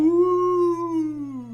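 A single long drawn-out howl from the video game Crusader Kings 2, a clear wavering tone held for over a second before it trails off.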